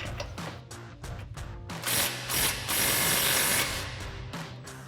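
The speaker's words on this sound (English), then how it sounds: "we'll grab our 18mm socket and swivel adapter on our impact" An impact wrench fitted with an 18mm socket and swivel adapter loosens a ball joint nut on a 2015-2020 Ford F-150 during a lowering kit install. It makes close rattling, hammering bursts that build into a loud sustained run mid-clip.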